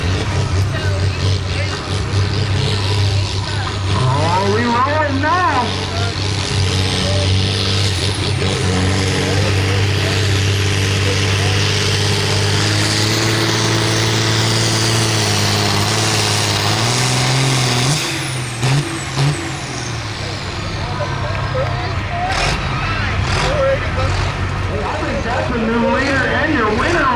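A hot stock tractor roars at full power during a tractor pull, its heavy engine droning loud and continuous with rising and falling revs, while a crowd and voices are audible underneath.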